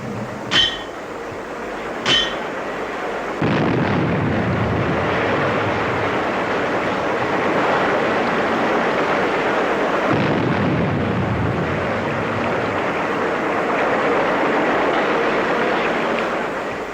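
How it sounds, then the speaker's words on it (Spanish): Dynamite charges set in steel pipes blast a channel near Valdivia, Chile, in 1960: two sharp, distant bangs, then a loud sustained rumbling roar that lasts to the end. "Pronto el estruendo de las explosiones debería ser superado por el que provocarían los derrumbes"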